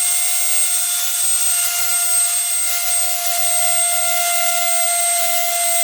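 Cordless blower running on an 18V 5Ah battery, a steady high-pitched whine with a strong constant tone and airy rush, loud and unbroken throughout with no talk.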